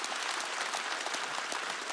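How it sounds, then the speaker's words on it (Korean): Congregation clapping in a church during a lively Wednesday worship service, a steady dense wash of many hands applauding together without pause, no voices standing out. "박수 치라고."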